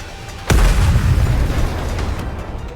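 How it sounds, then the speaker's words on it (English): Missile blast in Goddess of Victory: Nikke: one sudden loud booming explosion, then a rumbling, crackling tail that slowly fades over a couple of seconds. "The missiles have no homing ability. It's just firing wildly!"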